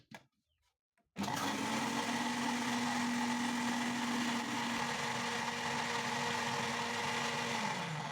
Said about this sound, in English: I'll slightly blend it to mix with the other ingredients